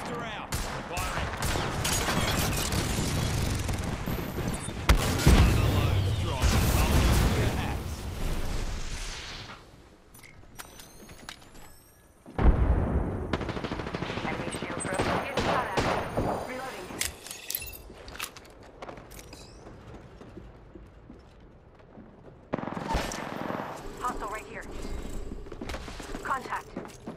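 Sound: gunfire in Apex Legends video game

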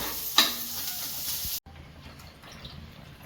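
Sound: soaked rice poured into pot for ghee rice

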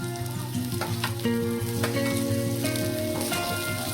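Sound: chopped tomatoes added to onions frying in oil

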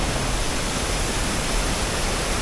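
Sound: waterfall

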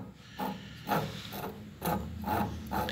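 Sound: key duplicating machine cutter scraping a key

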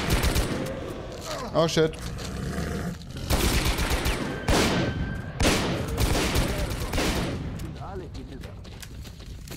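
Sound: gunfire in the video game S.T.A.L.K.E.R. Call of Pripyat

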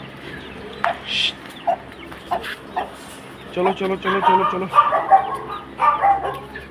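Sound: chickens clucking

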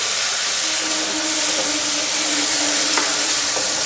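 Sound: finely chopped onion frying with cumin

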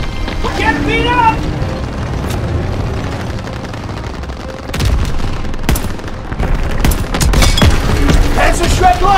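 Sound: Panzer tank explosion and gunfire in video game Call of Duty WWII

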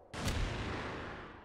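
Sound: explosion in a video game

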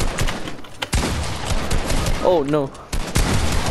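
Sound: gunshots in the video game Fortnite

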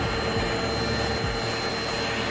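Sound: vacuum cleaner cleaning inside of Crocs shoes

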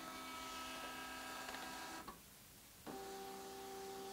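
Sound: ECG machine printing

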